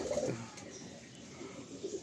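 Pigeons in a loft cooing, soft low throaty coos at the start and again near the end over a quiet background.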